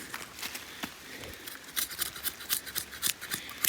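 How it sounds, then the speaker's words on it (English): A blade of AEB-L steel used one-handed as a draw knife scrapes and shaves wood in short rasping strokes, quiet at first and then quicker and louder, close by with no talk. "if I want to dig in and even use this again as a draw knife,"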